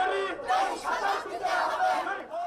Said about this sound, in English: This is the sound of the workers who make your clothes in Bangladesh, taking to the streets in the capital Dhaka this fall in a fight to increase the minimum wage.